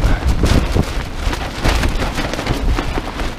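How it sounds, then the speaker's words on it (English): Heavy rain and gusting wind at a lochside wild camp, a loud continuous wash of patter and buffeting against the microphone with no voices. "just to get out the wind and the rain"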